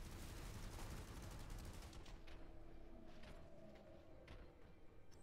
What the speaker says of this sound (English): So that's a machine gun, huh?